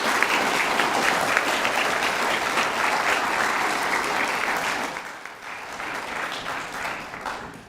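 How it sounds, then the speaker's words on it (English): A school prizegiving crowd applauds a dance group with dense, loud clapping that thins out and fades toward the end. "Round of applause for Intensified Dance Group."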